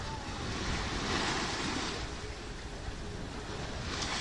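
Ocean waves and surf wash steadily around a sailboat on a passage toward Cartagena, a broad continuous rush mixed with wind buffeting the microphone, fairly loud and even throughout with no voices.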